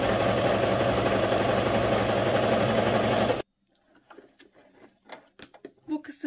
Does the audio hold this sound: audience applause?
no